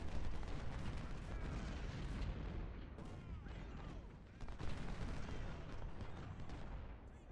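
Massed artillery fire in the Civil War strategy game Ultimate General: Civil War, Mule Shoe battle: a dense, continuous roar of cannon and musket volleys with rolling booms layered throughout, loud and unbroken.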